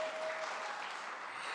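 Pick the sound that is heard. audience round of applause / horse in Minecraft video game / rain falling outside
audience round of applause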